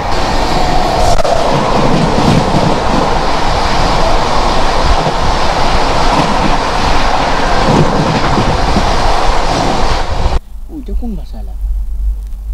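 The Howrah Sainagar City Superfast Express roars past loudly and continuously, with rumbling wheels and carriage noise for about ten seconds before it cuts off to quieter ambience.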